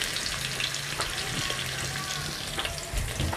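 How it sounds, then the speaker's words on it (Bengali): Sliced onion with salt frying in a pan, a steady crackling sizzle with a few soft stirring scrapes, close and even throughout, no voices. "লবণ দিয়ে পেঁয়াজটাকে একটু ভেজে নেব।"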